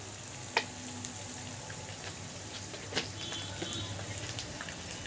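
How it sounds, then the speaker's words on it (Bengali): Spices with turmeric, whole garlic and salt fry in a pan for a picnic-style meat curry, giving a soft, steady sizzle with a few sharp clicks of a spoon against the pot, quiet and close. "মশলাটা কিন্তু ভালো করে কষে নেব"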